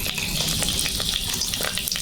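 Three bay leaves sizzling and crackling in hot oil in a wok, a dense, continuous frying hiss with sharp pops throughout, close and fairly loud.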